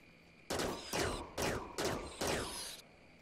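Five evenly spaced gunshots from colonists hunting beavers in Rimworld, sharp loud cracks in a quick steady rhythm over a faint insect-like background hum.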